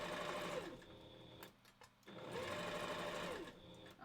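A sewing machine stitches pieces of fur together for a wolf partial costume head, running in two long steady bursts with a short pause between them, close and fairly loud.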